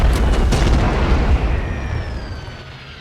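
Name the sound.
warship cannon broadside in The Great War 6.0 video game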